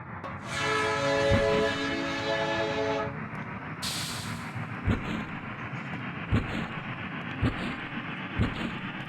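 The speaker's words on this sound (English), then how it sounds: "Hurry up, the train's about to leave." A train horn sounds loud and sustained for about three seconds at departure in the Amok Runner video game, followed by a brief hiss and a series of spaced rhythmic clanks from the rail cars.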